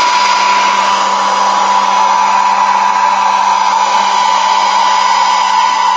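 A hair dryer drying paint on a stencil and gel plate craft project runs loud and close, a steady unbroken whoosh with a constant motor whine throughout and no voices.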